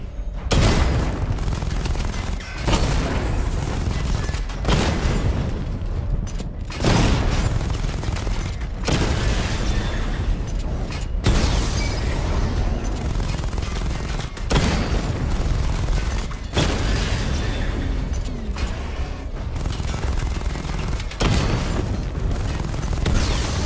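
Missile barrage explosions in Batman: Arkham Knight, a run of heavy booming blasts and dense rumbling fire that repeats in bursts separated by short gaps, loud and close throughout.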